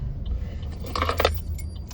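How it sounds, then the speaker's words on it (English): Bunch of keys jangling briefly in a short metallic rattle near a car, over a low engine rumble. "Oh, those are not even my keys. Those are my son's keys."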